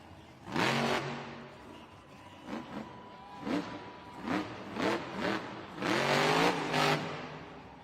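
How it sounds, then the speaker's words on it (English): The Gravedigger monster truck engine roars through repeated full-throttle revs in a Monster Jam stadium event, the pitch climbing and falling in surging bursts and growing louder toward a sustained peak. "Gravedigger never letting up on the throttle."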